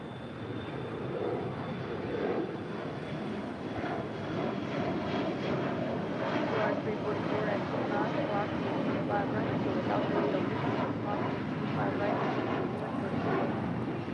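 A five-year-old Volaris Airbus A321neo arriving from Guadalajara lands at LAX, its engines producing a sustained, even roar over the full stretch, moderately distant with a faint high whine riding on top.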